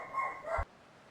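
A single short, close dog bark or yip, heard indoors. It ends abruptly after about half a second, followed by quiet room tone.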